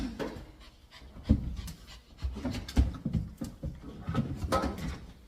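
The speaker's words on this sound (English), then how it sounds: "This is Ginger, and she is a toy poodle, and she is all worked up." A worked-up toy poodle at the groomer's pants rapidly and unevenly up close, with scuffling knocks and small bumps mixed in as the dog shifts and struggles.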